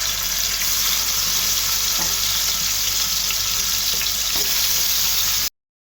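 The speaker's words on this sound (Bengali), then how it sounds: "মাছগুলো ভাজা হয়ে গেছে" Fish frying in oil in a frying pan, a steady loud hiss and crackle filling the whole stretch with a few faint scrapes, cutting off abruptly just before the end.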